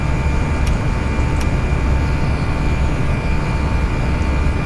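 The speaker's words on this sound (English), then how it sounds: "Aircraft is now turning to follow the required heading" Steady loud cockpit drone of an Airbus A320 turning onto a new heading, a continuous engine and airflow roar with a constant tone, broken by two brief clicks early on.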